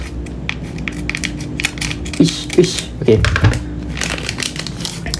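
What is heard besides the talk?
cutting open Monsta Galaxy card pack wrapper with scissors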